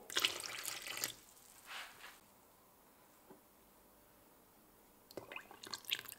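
Water is poured into a bowl for homemade sandwich dough in two short splashing bursts, a faint drip between them, then another pour near the end.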